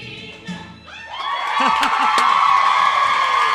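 A theatre audience at a Mamma Mia performance cheers and whoops during a dance number, a loud roar of voices that swells and holds, with shrill shouts over a sustained crowd noise.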